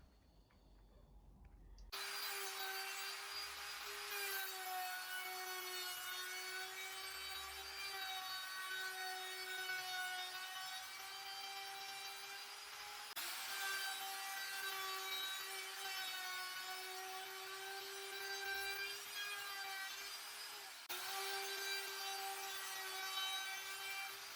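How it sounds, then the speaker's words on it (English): A small router fitted with a quarter-round bit rounds over the cut edges of wood for a radiator cover, giving a loud, steady high whine that starts abruptly and runs on without a break, with brief dips in pitch as the bit cuts. "I need to round over all the cut edges, so I've just put this 1/4 round router bit in my little router."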